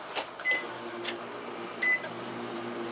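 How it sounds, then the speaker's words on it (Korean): A microwave oven in a used food truck runs with a steady hum, punctuated by a few short beeps and clicks from its controls. "전자레인지 잘 돌아가고요"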